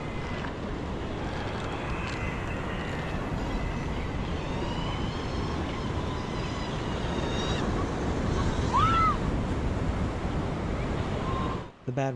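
Ocean surf from a South Shore swell breaking over the lagoon wall at Magic Island in stormy weather, a steady broadband wash of crashing water and wind, loud and continuous throughout.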